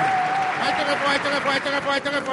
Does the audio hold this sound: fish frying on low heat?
no